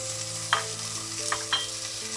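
Chopped potatoes (two medium) and a carrot sizzle steadily in hot oil in a pan for a poori masala, with a few brief scraping clicks as they are stirred; close, moderate level, no voices.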